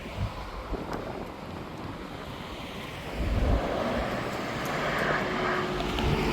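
A Jet2 airliner's engines roar at Leeds Bradford Airport as a broad, steady rush mixed with wind buffeting, swelling louder about halfway through and holding there, with no voices.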